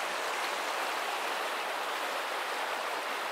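A steady, broad rush of flowing water from the Bolshaya Shush river, like a stream running over stones, constant and unbroken with no voices.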